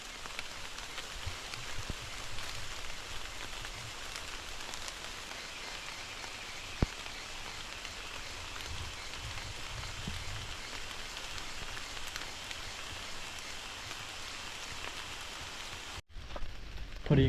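Steady rain falls on an overnight camp in the forest, a constant even hiss lasting most of the clip before cutting off abruptly near the end.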